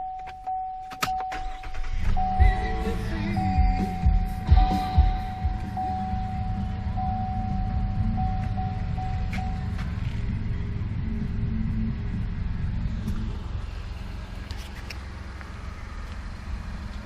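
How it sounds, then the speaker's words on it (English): Chevrolet Colorado ZR2 Bison pickup truck cranks over and settles into a steady low idle rumble, close by with no talk. "So now I'll go turn on the truck"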